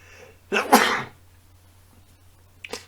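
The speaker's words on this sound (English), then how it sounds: "Yeah, I did sneeze." One loud, explosive sneeze up close, followed a couple of seconds later by a short, sharp exhale or smaller burst.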